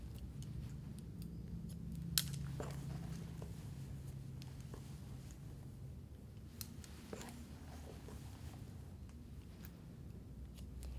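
Scissors snip through hair on a mannequin head during a uniform layer haircut, giving a few faint, sparse clicks over a low steady room hum with no talking.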